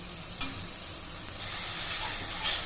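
Green masala paste for makhana frying in a pan, a steady close sizzle with light stirring scrapes throughout, no talk.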